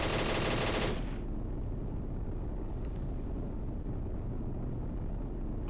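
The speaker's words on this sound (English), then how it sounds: "But we can pick them off with our machine gun." Tank machine gun fire in the Steel Fury video game, a dense rapid burst up close for about a second, then cutting off into a steady low rumble of engine and ambience.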